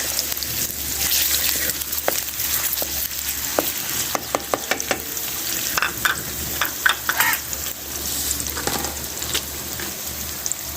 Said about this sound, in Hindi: ये अभी हमारा तेल गर्म हो चुका है, तो अभी हम इसमें डाल देते हैं प्याज